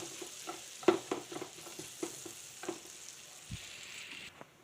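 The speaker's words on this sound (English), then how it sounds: "I'll mix it up here, and we'll let it fry up and get it fried up." Keto Texas fries frying in a pan while being stirred, a low steady sizzle under scattered sharp scraping clicks and knocks from the utensil, fairly quiet and close.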